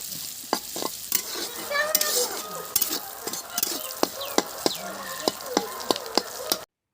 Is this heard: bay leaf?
yes